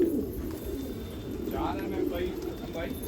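Racing pigeons coo on a rooftop loft in Rohtak, a low soft repeated murmur with a few brighter calls near the middle, amid steady background noise.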